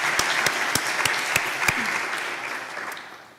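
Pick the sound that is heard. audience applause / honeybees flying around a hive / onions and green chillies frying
audience applause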